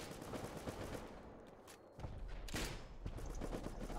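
Turrets fire in Rust during a base raid, a dense run of rapid gunshots and bursts over continuous background noise, with sharp louder volleys near the middle and later on.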